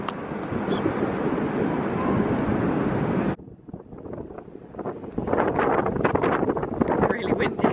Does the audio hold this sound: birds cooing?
no